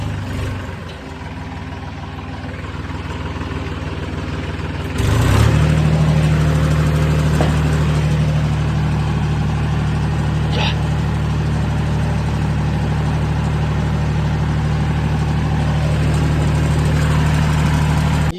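Heavy diesel engine idling with a steady low throb, then revving up and running louder and continuously after a clunk a few seconds in.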